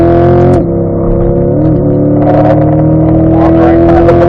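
A C8 Corvette accelerates hard out of a track corner, its engine note rising steadily and loud as it winds up toward fourth gear, with no voices present.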